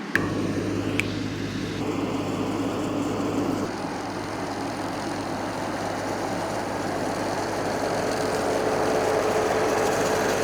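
A steady engine drone from a running John Deere 5075E tractor with a cab pulling a sickle bar mower cutting hay, with a low hum and mechanical clatter, continuous and close for the whole stretch.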